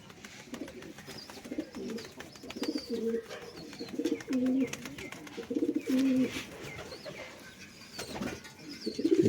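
Soft, low pigeon coos repeat in short phrases at moderate distance, with faint rustling and occasional bird chatter in the background.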